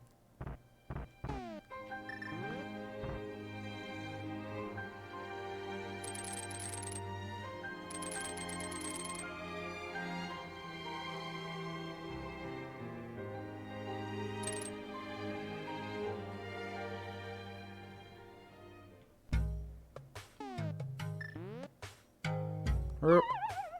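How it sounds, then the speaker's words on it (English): A phone notification chimes and dings while a Zelda: A Link to the Past randomizer game runs, the bright ringing tones and musical game sounds playing steadily for most of the stretch before a few sharper bursts near the end. "Why is my phone tingle-dingling at me?"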